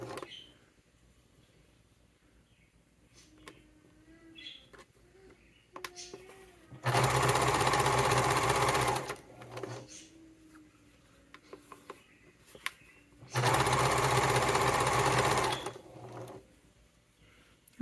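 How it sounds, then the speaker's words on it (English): A sewing machine sewing wallet pieces runs in two steady bursts of a few seconds each, close and loud, with quieter handling sounds and faint talk between them. "and just sew right on over."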